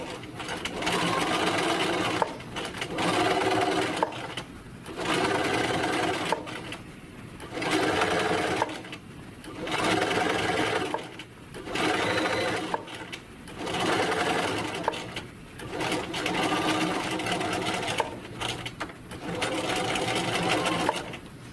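A sewing machine runs in repeated bursts while top stitching a faux leather seam, each steady whirring run lasting about two seconds and separated by short pauses, recorded close up.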